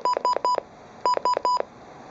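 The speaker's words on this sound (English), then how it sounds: "It's basically an alarm like with this beeping noise," A Midland WR-300 weather radio sounding its alarm: two bursts of three sharp electronic beeps each, loud and close, separated by a short pause, with no voices.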